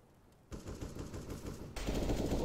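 Rapid automatic gunfire from a Counter-Strike: Global Offensive (CS:GO) match, a dense rattling burst that starts abruptly, runs continuously and grows louder near the end, with no talking.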